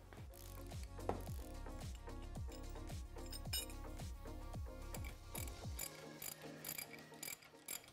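A ratchet wrench with a 17 mm socket tightens bolts on a Polaris General XP 4 1000 UTV, giving a rapid series of close, crisp metallic clicks in regular strokes, ending in a few lighter clinks and handling noises.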